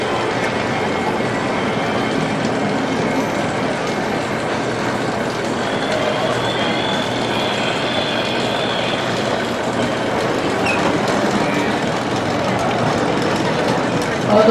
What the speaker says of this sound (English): show you a bit of the red train in action